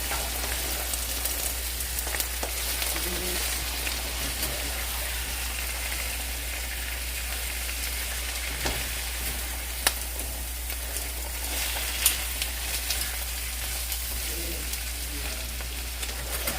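Onions and home-fried potatoes sizzle steadily in a pan, a constant close crackling hiss with occasional small pops and stirring scrapes.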